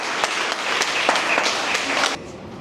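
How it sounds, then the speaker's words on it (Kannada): An audience at a Hindu Janajagruti Samiti training camp event in Harihar claps steadily for about two seconds, a dense moderately loud patter of many hands that cuts off abruptly near the end. "ಚಪ್ಪಾಳೆ ಮೂಲಕ ಅವರಿಗೆ ಧೈರ್ಯವನ್ನು ತುಂಬ್ರಿ"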